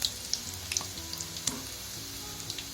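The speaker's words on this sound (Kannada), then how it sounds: "ಎಣ್ಣೆಯಲ್ಲಿ ಹಾಕಿ ಚೆನ್ನಾಗಿ ಫ್ರೈ ಮಾಡಬೇಕು ಅದು ಗೋಲ್ಡನ್ ಬ್ರೌನ್ ಕಲರ್ ಬರೋವರೆಗೂ ಫ್ರೈ ಮಾಡಬೇಕು" Onion bhaji frying in hot oil, a steady close sizzle with scattered crackles and pops, soft and without talk.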